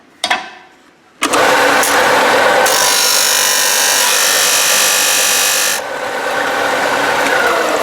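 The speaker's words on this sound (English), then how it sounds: "Now we're going to sand it back to that mark." A power sander grinds a plastic tent rope tensioner back to a mark, starting with a short burst and pause, then running in a loud continuous whir with a harsher abrasive rasp in the middle stretch.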